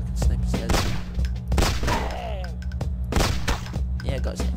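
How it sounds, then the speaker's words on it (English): Gunfire in the video game PlaZma Blast, a series of sharp, punchy shots at irregular intervals with thuds between them, close and fairly loud, while a voice talks over the action. "Let's see if I can snipe his head"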